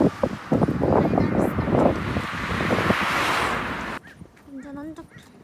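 Wind gusting at a beach on the Korean coast in winter, a broad steady roar with voices talking and laughing over it for about four seconds before it drops away under quieter talk.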